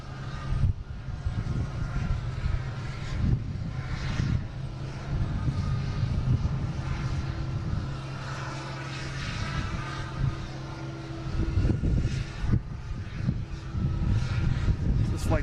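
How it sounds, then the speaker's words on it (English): An Airbus A321 on flight 1734 at Boston Logan International Airport, its steady engine roar running throughout under continuous talk. "an A321, flight 1734"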